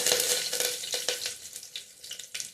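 Curry leaves dropped into hot oil for a sambar tempering, with cumin already in the pan, crackle and sizzle loudly up close, the hiss easing a little as it goes on, with no voices.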